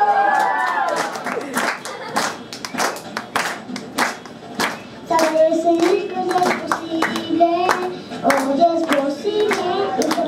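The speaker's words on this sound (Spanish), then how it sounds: "Vamos a empezar con un aplauso para ustedes." Audience clapping at a Christmas music event, irregular claps from a crowd with a voice and other voices mixed in, fairly close and steady over about ten seconds.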